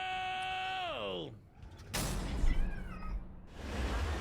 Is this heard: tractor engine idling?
no